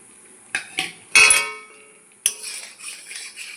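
Chicken satay pieces coated in cornflour are tipped into a cooking pan with a few sharp metallic clinks and clatters. The sounds are close and separate, with quiet gaps between them.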